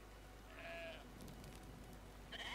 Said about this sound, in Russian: Сейчас мы этого баранца закинем, пусть бежит.